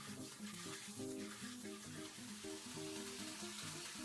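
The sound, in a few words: water being poured into a handai sushi rice tub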